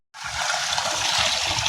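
Water from a borewell, drawn for watering cows, gushes out after a brief silence and then runs as a loud, steady, unbroken rush.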